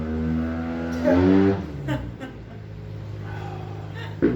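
On a street beside the Ionian Sea, a car engine gives one short rising rev, then settles into a lower rumble, with people talking nearby.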